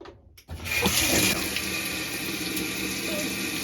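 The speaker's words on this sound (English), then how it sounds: "water fills the washing machine with, and it just keeps going" Water gushes steadily into a Whirlpool WTW5057LW0 washing machine drum with a constant rushing hiss after a brief click at the start, continuing without pause.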